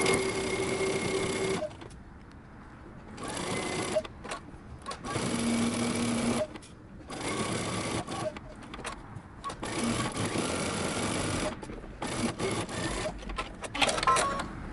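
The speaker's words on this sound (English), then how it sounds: "now you're going to go back to your sewing machine and you're going to edge stitch along the edge" A sewing machine edge stitches a pocket onto a cardigan in several bursts of fast, steady whirring stitches, broken by short pauses, close and clear.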